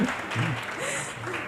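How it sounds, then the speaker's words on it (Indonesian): An audience at a talk claps briefly, a short soft patter of hands with a voice rising over it. "Tepuk tangan dulu buat kita semuanya."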